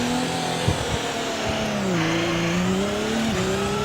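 Audi R18 prototype in a sim racing game at the Nurburgring, engine droning steadily with shifting pitch while the rear tires lock up under braking, giving a sustained close skid and squeal with no talking.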